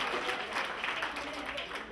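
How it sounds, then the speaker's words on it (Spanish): School event audience applauding a student called up to the front, a steady, moderately distant wash of many hands clapping with faint crowd murmur underneath, continuing evenly throughout. "Vicente, un aplauso para Vicente."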